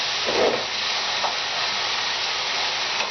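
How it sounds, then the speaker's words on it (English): Garlic and food fry in a pan with a steady, loud sizzling hiss close up, broken by a couple of brief bubbling spurts. "In the meanwhile, this is going to fry."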